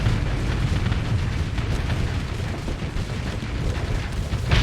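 Ship weapons firing and explosions in a Starsector space battle, dense continuous booms and bursts layered over a low rumble, loud and unbroken throughout, with a sharper blast near the end.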